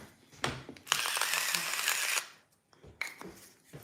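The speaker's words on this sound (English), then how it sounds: "My little salt grinder" A small handheld salt grinder cranked in short bursts in a kitchen while making breakfast, a close gritty crunching rasp with a long grind in the middle and brief pauses between turns.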